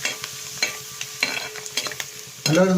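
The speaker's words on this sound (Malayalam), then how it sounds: "ഒരു 10-12 ചുള വെളുത്തുള്ളി, അതൊന്ന് ചൂടായിട്ട് അത് ശകലം ചൂടാകട്ടെ" About ten to twelve garlic cloves with a cut piece of ginger heat in oil for Kerala-style beef mappas, giving a soft sizzle broken by scattered scrapes and clinks of stirring, then a louder, fuller frying burst near the end.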